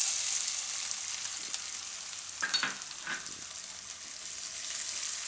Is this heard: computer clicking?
no